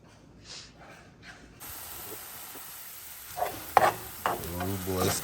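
Taco filling with curry sizzles and sputters in a pan after a quiet stretch, the frying swelling louder toward the end with sharp crackles and scraping stir sounds close by.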